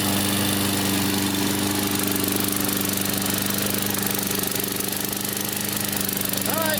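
A restored lawn mower engine runs steadily near the microphone at about 3,000 rpm, a constant buzzing drone with a strong hum and no pauses.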